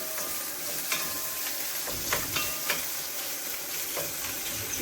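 Meat sizzling in a hot pan for lagman while being stirred, a continuous crackling fry broken by occasional scraping clicks of the utensil, close up with no talking.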